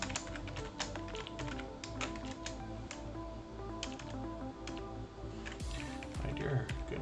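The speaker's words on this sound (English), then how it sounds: "I am really sloppy with my typing today" Typing on a computer keyboard: quick, irregular clicks and taps in bursts, close but quiet, over a steady background hum.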